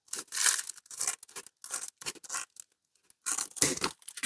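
Scissors snip and tear through a waterproofing sheet in several short bursts with brief pauses, close and fairly loud, no talking.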